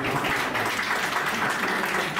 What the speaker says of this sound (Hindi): आपने ताली बजा दी